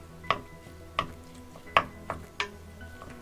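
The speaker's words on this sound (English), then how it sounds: "we're just going to mash this up with our spoon" A spoon mashes a turkey burger mixture in a bowl, giving about six sharp clinks and taps against the bowl at an uneven pace, with soft squishing between them and no talk.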